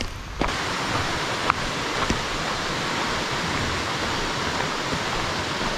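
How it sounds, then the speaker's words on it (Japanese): River flowing beneath a bridge, a continuous rushing wash of water heard up close, steady throughout with a few sharp clicks or knocks in the first half and no talk. "さっそべ川っていうね、川が流れて"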